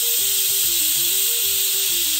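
A steady, loud hiss of steam escaping from a pressure cooker whistle fills the clip, with a low rhythmic rattling beneath it, up close and continuous.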